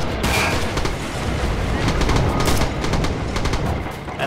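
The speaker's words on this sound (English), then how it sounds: "Enemy artillery." Enemy artillery and gunfire in Red Orchestra 2 at Mamayev Kurgan, with dense overlapping shots and booms rolling continuously at steady loudness, and voices faintly under the din.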